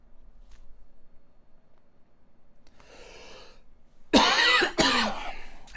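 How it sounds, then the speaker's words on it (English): A person coughs hard twice near the end after quiet breathing and a throat-clearing rasp, the coughs sharp, close and loud. "There is a little bit of a cough going on."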